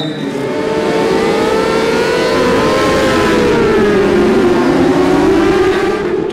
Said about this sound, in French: Dans quelques instants, Alexis Négrier va partir en grille pour sa première course Super Sport.